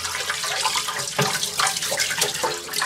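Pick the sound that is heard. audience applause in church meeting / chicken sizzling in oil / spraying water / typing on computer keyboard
spraying water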